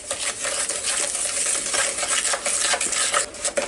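A spoon stirs sliced apples with sugar, brown sugar and cinnamon in a bowl, giving a steady close scraping and rustling texture with small clinks throughout.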